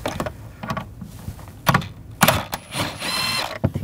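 A socket wrench fitted with a T40 socket works a fastener loose during rear shock absorber replacement on a 2007-2013 BMW 328i, giving close ratcheting clicks and sharp metallic knocks with a brief whirring stretch.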